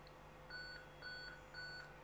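Three short, evenly spaced electronic error beeps from an NEC projector with a dynamic contrast fault sound over a faint steady hum, close by with no speech.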